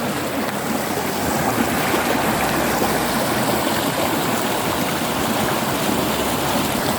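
Clear, cool water rushes steadily along a stream in the Pha Hom area of Vang Vieng, Laos, a dense, even outdoor flow heard close and loud for the whole stretch with no voices.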